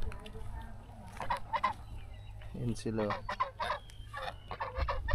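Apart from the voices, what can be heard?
geese honking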